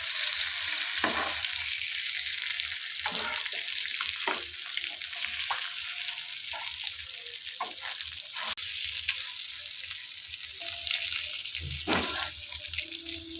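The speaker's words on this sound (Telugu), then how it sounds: "ఇలా 2 వైపు కూడా తిప్పుకొని చేప ముక్కలన్నీ ఫ్రై చేసుకోవాలి." Fish pieces frying in a pan, a soft steady sizzle with intermittent clinks and scrapes from turning the pieces, moderately quiet and close.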